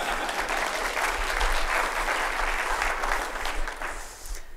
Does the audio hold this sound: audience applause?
yes